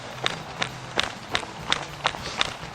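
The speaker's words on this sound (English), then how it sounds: "You'll hear more of my footfall" Footsteps of a person walking outdoors, about eight evenly spaced steps at a brisk pace, close and moderately loud, with soft background noise between them.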